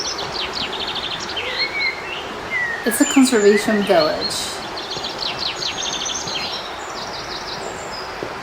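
Birds calling around a conservation village, with thin chirps and trills scattered through steady outdoor ambience, and a short burst of livelier calling in the middle; a person speaks briefly over it.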